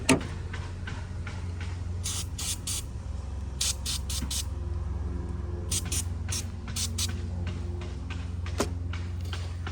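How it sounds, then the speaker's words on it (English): Several short bursts of hissing spray from an aerosol cleaner can onto an engine with a blown injector on cylinder 2, some in quick groups of two or three, over a low steady hum. "I'm gonna spray it over here"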